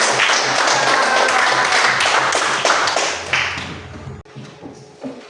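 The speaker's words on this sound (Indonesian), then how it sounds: "tepuk tangan untuk kelompok 3" A classroom of students claps for a presenting group in a religious education lesson, a dense patter of hand claps that tapers off into a few scattered claps and quiet room noise.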